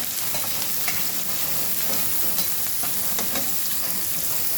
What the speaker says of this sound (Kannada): ಈರುಳ್ಳಿ ಸಹ ಹಾಕ್ಕೊಳ್ತೇನೆ ಈರುಳ್ಳಿಯನ್ನು ಕೆಂಪು ಹುಗಿಬೇಕು